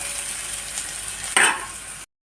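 Onions fry in hot oil in a wok, a steady close sizzle with a sharp scrape of stirring near the end before it cuts off.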